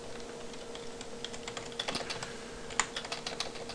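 Fast, irregular clicking of a computer keyboard as someone types, close and fairly quiet, with a steady faint hum beneath and no talk.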